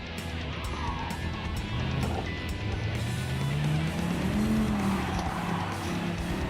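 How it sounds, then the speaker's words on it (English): A group 3 race car slides onto the grass and spins at Daytona, engine droning with rising and falling revs while tires skid and scrub across the surface, steady and close throughout. "I'm gonna get our wheels onto the grass and I'm gonna spin around, being in the grass"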